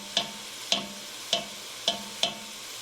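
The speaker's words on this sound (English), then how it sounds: "we'll stir this periodically" A spoon stirring chili in a pot scrapes and knocks against the side five times in a loose, even rhythm, each stroke a short clear click over a faint low simmer.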